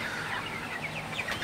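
Broiler chickens ready for sale on a farm, a flock clucking and chirping continuously, close and fairly loud, with no talk.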